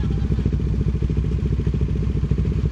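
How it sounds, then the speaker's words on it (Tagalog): A motorcycle engine rumbles close and steady, with a pulsing low throb and light mechanical clatter, as the big bike rolls onto a ferry at Batangas Port. "So kasama namin yung motor."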